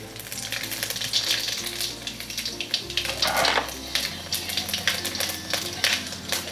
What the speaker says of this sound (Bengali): ফোড়নটা এবার তেলের মধ্যে দিয়ে দেব